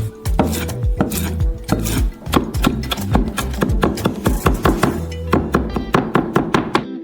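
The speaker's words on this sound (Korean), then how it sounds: "민트를 잘게 썰어서" Knife chopping fresh mint finely on a board for a melon milkshake garnish: a long run of quick, close, sharp thunks in uneven rhythm, steady and loud with no talk.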